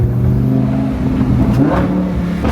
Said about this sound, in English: this exhaust is Crazy.